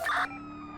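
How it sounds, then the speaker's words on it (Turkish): A short electronic police siren wail in GTA 5 bursts out loud for a moment, then drops to a steady low engine hum. "Siren basın"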